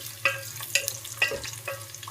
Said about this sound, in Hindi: प्याज को फ्राई कर लेते हैं गोल्डन ब्राउन। अब मैं इसमें शामिल करूंगी अदरक और लहसुन